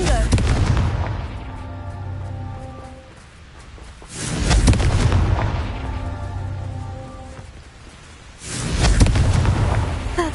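A Confringo spell explodes in Hogwarts Legacy, two heavy booming blasts with a rumbling tail about four seconds apart, loud and full, followed by a third surge, with game music humming underneath.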